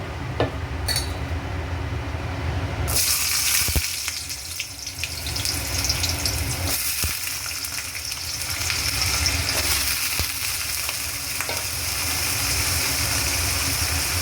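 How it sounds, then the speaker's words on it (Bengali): Cut potatoes frying in hot oil in a home kitchen, a steady broad hiss and sizzle running throughout, fairly loud and close with no talk. "আলুগুলোকে আমি ভালো করে ভেজে নেব"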